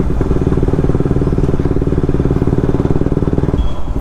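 Motorcycle engine idling, a loud close rhythmic thumping putter that holds steady and then drops abruptly near the end.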